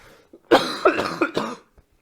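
A man gives a short fit of harsh, chesty coughs, four or five quick bursts in close succession, loud and near, with nothing else around them.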